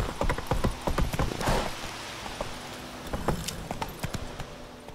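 Horse hooves trotting in The Witcher 3 video game, a steady run of close clip-clop beats with a faint jangle of tack and some background game sounds.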